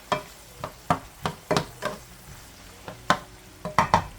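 Spatula stirring chopped bell pepper into ground beef frying in a pan, a steady series of scraping, clattering strokes over a soft sizzle, close and fairly loud, no voices.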